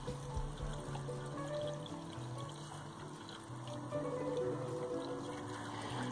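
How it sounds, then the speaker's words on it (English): Leftover drinking water pours into the toilet flush tank aboard a narrowboat, a steady close trickle and splash running for several seconds with slight changes in flow. "what I do is pour the leftover in the flush tank so it doesn't go to waste, which is what I'm doing here"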